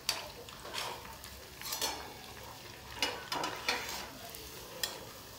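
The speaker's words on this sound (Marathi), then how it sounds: "दोघं साईडला व्यवस्थित तळून घ्यायचं आहे" Pav vada frying in homemade oil, a soft steady sizzle with intermittent scrapes and clinks of a utensil against the pan, fairly quiet and close, without speech.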